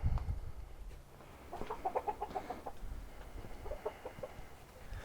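An old hen being put back in her pen, clucking in soft, quick bursts at moderate distance, with a low thump or handling noise at the start and faint background rustle.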